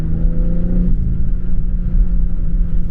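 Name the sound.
BMW M3 Competition six-cylinder car flyby with turbo spool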